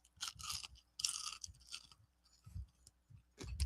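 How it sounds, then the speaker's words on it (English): Close, quiet crunching as unbreaded fried chicken skin is chewed, several crisp bursts in an uneven rhythm separated by brief pauses, with no talking. "it's going to have a nice little crunch to it, like that. You can hear it when you chew into it."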